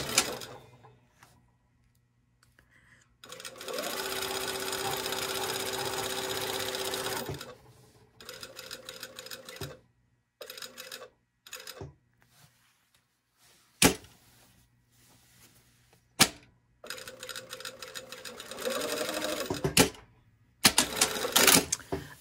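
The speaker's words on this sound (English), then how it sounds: "now we're gonna sew the side dart on the front." A sewing machine stitches a side dart on a garment front, running in a steady burst of several seconds, then in short stop-start spurts with quiet gaps between, and a longer run near the end.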